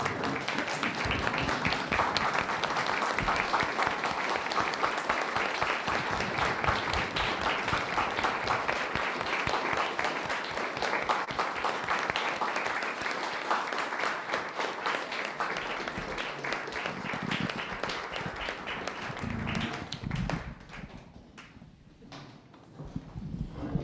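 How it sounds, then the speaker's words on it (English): Conference business meeting attendees stand and applaud, sustained rhythmic clapping from a large room filling most of the stretch before tapering off, with a voice resuming near the end. "standing and applauding."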